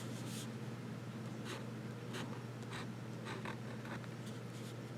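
A fine-nib fountain pen scratches across paper in short strokes, close and quiet over a low steady hum.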